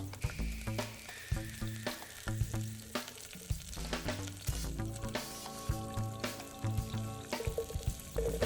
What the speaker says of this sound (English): Add the garlic, green chilies, and onion, frying for a couple of minutes.